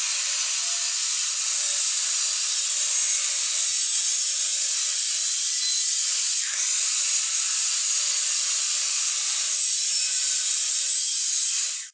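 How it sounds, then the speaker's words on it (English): Power saw trimming one side of an edge-grain wooden cutting board cut to 18 inches, a steady loud high-pitched whine of blade through hardwood held continuously for about twelve seconds with a brief dip midway. "I'll start by trimming one side off, then we'll measure and cut the other side."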